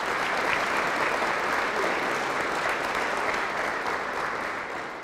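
A round of applause fills an awards ceremony hall for school principals and district supervisors, continuous dense clapping from a large audience at steady volume, easing slightly at the close.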